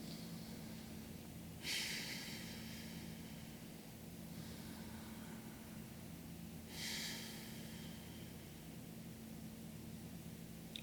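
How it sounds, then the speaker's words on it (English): A person slowly draws one deep breath in and lets it out, a soft hiss heard twice several seconds apart over a low steady hum, close and quiet, with no talking. "Just try one breath."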